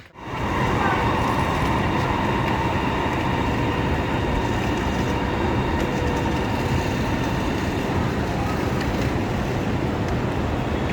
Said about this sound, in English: A really busy station, this one.